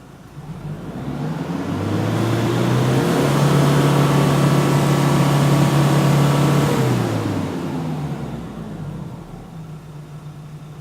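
A car engine revs up sharply during a rapid-acceleration exhaust emissions test, holding a loud steady roar for several seconds before dropping back to idle.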